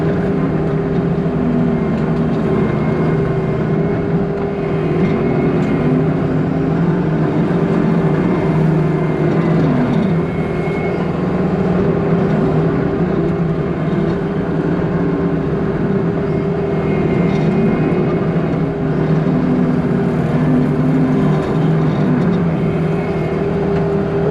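An MTL XCT brush cutter mows bushes on a dry hillside, its engine and cutting drone running loud, close and constant throughout with no voices.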